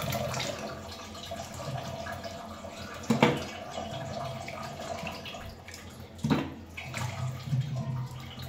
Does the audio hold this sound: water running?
yes